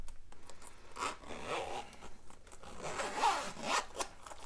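A zipper is pulled slowly shut around a Nintendo Switch OLED carrying case, making a run of close, raspy strokes with short pauses between pulls.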